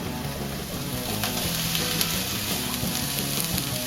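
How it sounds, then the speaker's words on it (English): Onions sizzle steadily in a hot pan with leftover sausage juices, a dense, even crackle close up and at moderate volume, with no one talking. "Then in the same pan, we're going to add the onions while it's still hot."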